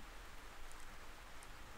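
Steady rain hiss in GTA San Andreas fills the clip, a soft continuous patter with no other clear sounds.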